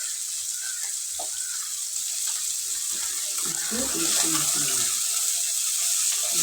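Tin kathali fish fry in hot oil, a loud, dense, continuous sizzle that holds steady and swells slightly toward the end, heard up close with faint muffled voices underneath.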